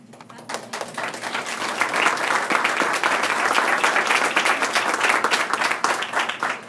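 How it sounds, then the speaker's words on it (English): An audience at a school board of education meeting breaks into applause, building quickly from a few claps into loud, dense, sustained clapping that carries on for several seconds. "I'd just like to give you an applause"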